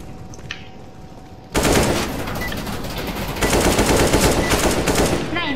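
Rapid automatic gunfire in Counter-Strike: Global Offensive erupts after a quieter opening and continues as dense, loud, sustained bursts, growing slightly heavier toward the end.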